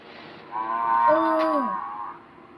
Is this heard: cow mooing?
yes